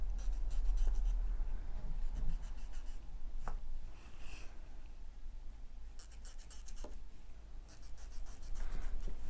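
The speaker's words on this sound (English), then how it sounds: "I'll layer these up then and trace around the corner" A pen traces around the corner of layered fabric pieces, basted fleece among them, for a Half-pint Hobo sewing project. Bursts of soft scratchy strokes come close, with brief pauses between.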